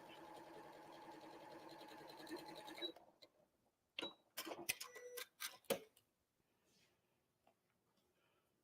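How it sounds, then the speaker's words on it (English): A sewing machine stitches a quilt seam in a fast, steady run of close mechanical ticks for about three seconds. It stops, and a few scattered clicks and handling knocks follow in the quiet. "So then I'm just going to sew again the other side."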